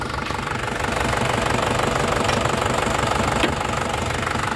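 A high-mileage Isuzu Panther Kapsul diesel engine from 2000, with 400,000 km on it, idles steadily with a loud, even knocking clatter and a constant low rumble, no voices.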